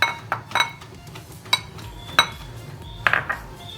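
Mashed potato being mixed with cornflour in a bowl, giving a series of sharp clinks and scrapes of a utensil against the dish, irregularly spaced and close, with no voices.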